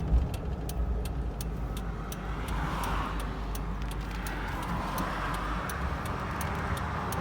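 A 1993 Ford Bronco engine hums steadily and rises in pitch as the vehicle pulls away, with a faint rhythmic ticking over the continuous road noise.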